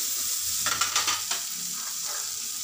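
Finely chopped onion with chillies fries in a pan, a steady hiss with a brief scraping burst of stirring in the middle.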